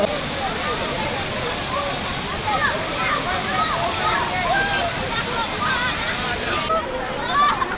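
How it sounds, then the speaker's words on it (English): Steady broadband roar of a hidden waterfall where people are swimming, loud and continuous throughout, with a few faint voices and splashes mixed into the rushing water. "Waterfall"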